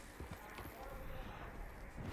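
Horse hooves clop in an uneven, shuffling rhythm in the video game Red Dead Redemption 2, over a steady low rumble of background ambience.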